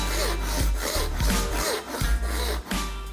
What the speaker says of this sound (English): as I'm cutting, start leveling out the saw